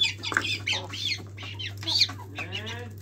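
Chickens on a farm cluck and squawk close by, with a brown hen that has just laid an egg, over a steady low electrical hum; short bursts of calls repeat irregularly with no talking.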